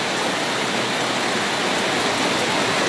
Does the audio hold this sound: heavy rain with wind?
yes